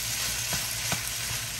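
Shrimp fried rice sizzling loudly in a hot pan as it is stirred, with a dense frying hiss and a few soft scrapes of the utensil through the rice.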